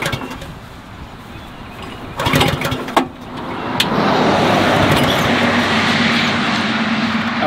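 Someone tries to start the engine of an Allett C34 steel reel mower, choke on, with a couple of loud pull-cord rasps and brief sputters, then a steady broadband running roar up close, no talking.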